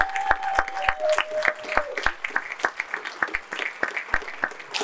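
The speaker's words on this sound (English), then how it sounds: "Let's give a round of applause for it." Audience applause fills a hall at the Onyx Men of Honor 2024 ceremony: steady, dense clapping from a crowd, loud and close, continuing throughout with a faint sustained tone early on.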